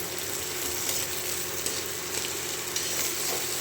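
Steady frying sizzle from a pan of onions and tomato, continuous and close, with occasional soft stirring clicks and no voices.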